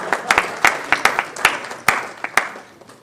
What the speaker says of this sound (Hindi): अगर अपने हाथ निकालिए और जोरदार ताली दीजिए